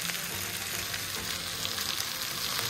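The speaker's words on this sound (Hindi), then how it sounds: "पक चुके हैं तो मैं इसमें अभी डालूंगी भिंडी जो मैंने फ्राई करके रखी हुई थी" Okra fries with masala in oil in a pan, giving a steady, dense sizzle that runs close and even throughout, with faint stirring and no talk.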